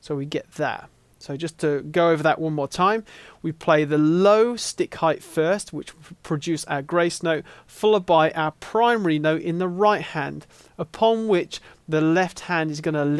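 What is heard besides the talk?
No distinct noise like a dog, phone or traffic.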